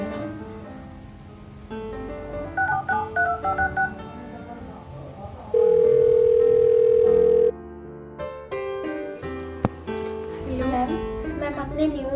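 A series of telephone keypad tones beeps out a number, with a long steady tone in the middle and a few more beeps after, over background music.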